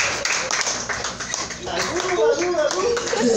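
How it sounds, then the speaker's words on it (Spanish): Hands clap in a quick burst of rhythmic claps during a baby diapering lesson, with a voice talking over them and continuing once the clapping fades. "Palmas para él."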